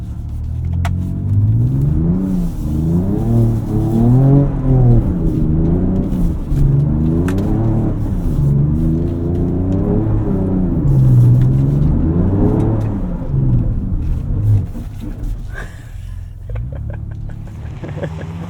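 A 2024 Ford Ranger Raptor engine rumbling and revving off-road, the pitch rising and falling in repeated surges, loud and close, steady for most of the run before easing off near the end.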